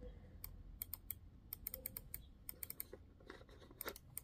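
A Logitech G502 X Plus gaming mouse is clicked repeatedly, sharp quiet ticks in quick irregular bursts, close by against a soft room hiss.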